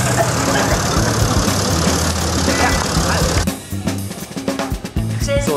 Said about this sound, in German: im Hintergrund naht unser Viehtransport, unser Traktor, wo wir jetzt hoch zu den Ruinen gebracht werden.